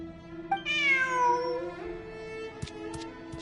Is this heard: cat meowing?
yes